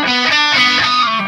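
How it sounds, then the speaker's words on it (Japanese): An electric guitar played through a distortion effects pedal rings out in a loud, buzzing, saturated chord, held steady for over a second before easing off slightly at the end. "右手のピッキングのこう繊細にね、強弱を変えた時に歪み方がちゃんと変わってくれる"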